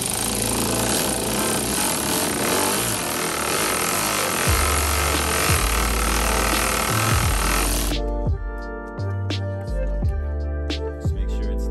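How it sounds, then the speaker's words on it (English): A power tool drives in the steering wheel center bolt while a Buddy Club carbon fiber wheel goes onto a Honda Civic. A loud, continuous rattling burst runs for about eight seconds, then cuts off, leaving quieter background sound. "now we're gonna go ahead and put in the center bolt that goes to the steering wheel"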